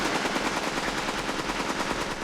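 Firearm shooting blanks on a film set: a continuous rapid automatic burst of sharp, loud reports at an even fast rhythm, close and dense, with no talk.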